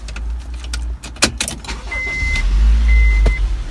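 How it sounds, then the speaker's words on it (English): A Honda CR-V or Accord with a stalling, no-start fault is started nearby: key and switch clicks, a brief crank, then the engine catches and settles into a low, steady idle. "And we're gonna start the car."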